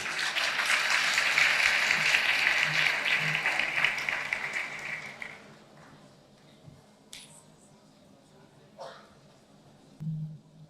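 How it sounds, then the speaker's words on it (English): Audience applause for a speaker at a parental rights event, fairly full clapping for about five seconds that then fades out, leaving a quiet room with a few small knocks. "can we please give him a round of applause"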